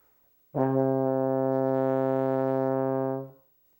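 A single sustained C on a baritone horn, held steadily for about three seconds, rich and mellow, starting cleanly and fading out at the end.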